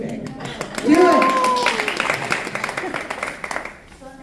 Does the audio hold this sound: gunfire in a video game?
no